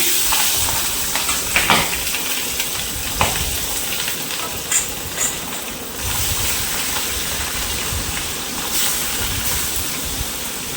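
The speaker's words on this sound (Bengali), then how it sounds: "এবার আমি ট্যাংরা মাছগুলো একটা করে সব ভেজে দেবো।" Tengra catfish with roe frying one by one in hot oil with cumin seeds and coriander leaves, a steady close sizzle and hiss with small crackling pops throughout, no voices.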